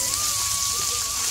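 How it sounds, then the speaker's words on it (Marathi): Ground homemade masala paste with cumin, crushed garlic and curry leaves fries in hot oil, making a dense, even sizzle like rain, with a faint thin whine running through it. "तेलात छान फ्राय करून घ्यायचं मसाला"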